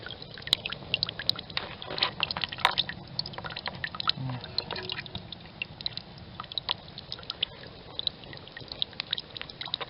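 Thick pine resin drips and trickles steadily outdoors with small wet plops and gurgles, close and fairly quiet, with no talking.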